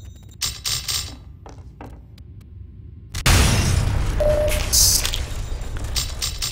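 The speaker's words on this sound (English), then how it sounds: "How do you survive that grenade?" A grenade explodes in Garry's Mod, a sudden loud burst that cuts through a quieter stretch of scattered thumps and fills the rest of the moment with sustained roaring noise.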